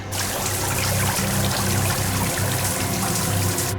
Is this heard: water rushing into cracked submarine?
yes